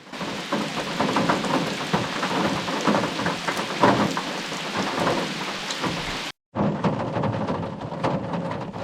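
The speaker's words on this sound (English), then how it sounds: "Things are getting pretty hectic. It's bucketing down." Heavy rain pours down at Lake William Hovell during a fishing trip, a dense continuous roar of drops with a brief cut near the end.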